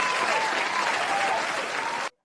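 Audience applause at a hip-hop talk show, a dense steady burst of clapping with faint cheering that cuts off abruptly after about two seconds.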